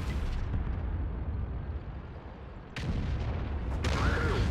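Heavy booming shots from an M53/M55 self-propelled artillery gun in a video game, a sustained rumbling blast followed by a sharp second report near the end, loud with a rolling low tail.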